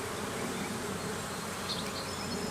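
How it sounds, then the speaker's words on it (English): Honeybees buzz near a beekeeper working a hive, a soft, continuous drone of wings with a faint passing whine, low in level and without speech. "I got a bee on my stomach"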